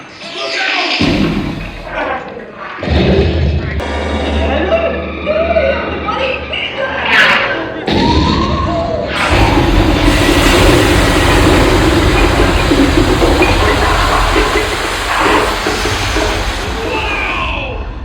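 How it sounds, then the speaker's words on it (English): A loud, booming explosion effect erupts partway through the Muppet*Vision 3D theater show, a sustained rumbling blast following rumbling engine-like effects and shouting voices. "What an explosion!"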